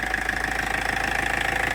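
A 27-year-old Land Rover engine, left standing for six or seven years on a driveway, idles steadily with a rhythmic low chug and even mechanical hum, close and fairly loud.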